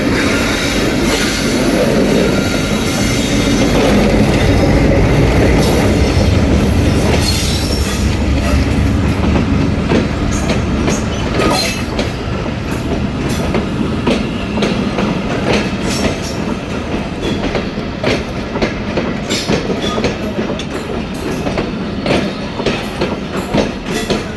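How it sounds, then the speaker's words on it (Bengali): Nakshikantha intercity express from Dhaka's Kamalapur station bound for Khulna entering Pachuria junction, a loud, sustained rumble of rolling wagons with rhythmic wheel clatter and occasional squeals throughout. "ঢাকার কমলাপুর স্টেশন থেকে নকশিকাতা এক্সপ্রেস খুলনার উদ্দেশ্যে"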